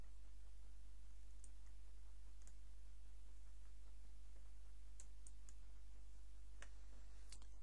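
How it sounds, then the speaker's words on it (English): A computer mouse on a desk gives a handful of sharp, faint clicks spaced irregularly over a quiet room with a steady low electrical hum. "Left click on an image and drag it below the line."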